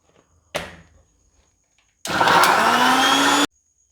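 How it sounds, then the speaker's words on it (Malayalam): A juicer blender whirs grapes into a grape shake. A brief motor burst is followed by a pause, then a louder steady grinding whir lasting about a second and a half before it cuts off sharply, close and with no talk. "ഇനി നമുക്ക് മുന്തിരി ജ്യൂസറിലേക്ക് ഇട്ട് കൊടുക്കാം. ഇനി നമുക്കിതിനെ അടിച്ചെടുക്കാം."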